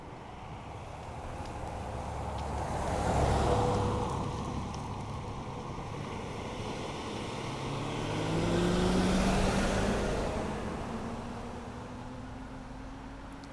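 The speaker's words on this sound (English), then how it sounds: "Now, since there's a car coming," A car on a steep rainforest road approaches and passes, a rising and falling engine and tyre rush heard twice, moderately distant, with no talk.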